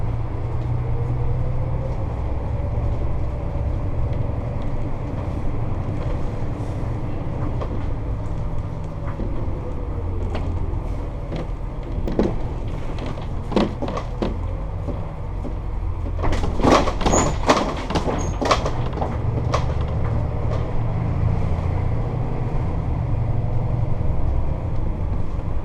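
Cabin noise inside a diesel Sportscoach motorhome on the move, a steady low road rumble with a burst of rattles and clunks partway through as it rolls over speed bumps, no talking.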